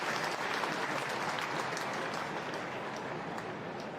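Crowd at a Northampton Saints versus London Irish rugby match clapping, a continuous broad wash of applause from the stands, moderately distant and steady from start to finish.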